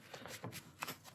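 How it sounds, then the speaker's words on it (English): Tarot cards from an Aquarian deck riffled and shuffled by hand at close range, a brief papery flurry of soft flicks and slaps with no talking. "I'm going to shuffle one more time"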